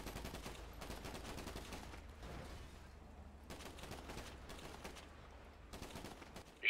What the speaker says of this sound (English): Are we shooting at the cops?